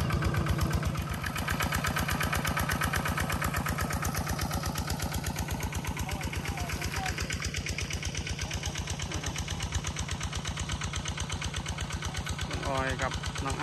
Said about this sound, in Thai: ตอนนี้ก็ตั้งเครื่องสูบน้ำเสร็จแล้ว